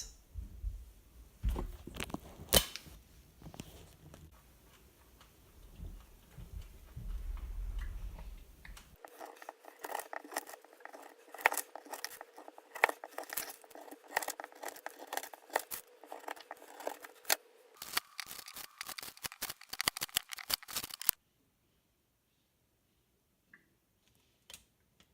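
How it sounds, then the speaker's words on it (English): A knife slicing through fruit and nut energy bars lifted out on parchment paper, close-up crunchy cuts and tapping ticks in irregular bursts, ending in near silence. "now we're going to cut them into bars"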